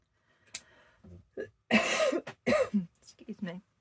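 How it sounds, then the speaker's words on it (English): A person coughs several times up close, in rough harsh bursts mixed with throat clearing and breaths, loud against a quiet room. "Now having a cough."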